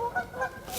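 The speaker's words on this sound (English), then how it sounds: "to join the noisy geese" Geese honking on a carp fishing lake, a few short nasal calls close together from a small group, moderately near.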